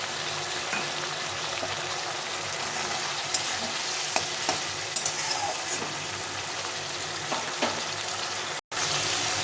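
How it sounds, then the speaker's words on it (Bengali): Spiced cabbage being stir-fried in oil for Bengali bandhakopir ghonto, a continuous close sizzle broken by scraping spatula strokes and a few clicks, ending in a brief cut to silence. "এটাকে ভালো করে একটু কষিয়ে নিতে হবে খুব একটা বেশি কষাতে হবে না একটু কষিয়ে দিতে হবে হালকা করে"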